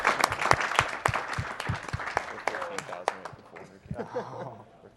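An audience at a live speedrun marathon streaming a Mirror's Edge race claps and cheers, a burst of scattered applause with whoops and laughter that thins out toward the end, with talk mixed in.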